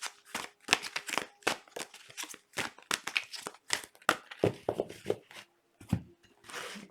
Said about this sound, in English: I'm going to take these and just shuffle them and put them over here.